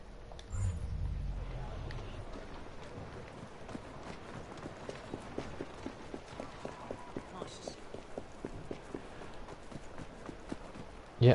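Horse hooves clip-clop at a steady trotting rhythm in the video game Assassin's Creed Syndicate, set in London, a moderately close, regular patter of hits that continues throughout.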